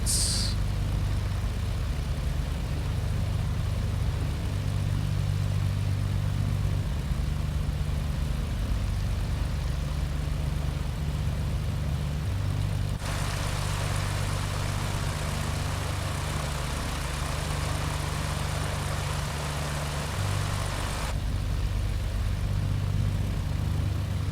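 A Loganair Britten-Norman Islander propeller aircraft taxis uphill on the runway at Glasgow, its engines droning in a steady low hum heard from inside the cabin, with no talk and a brief brighter stretch partway through.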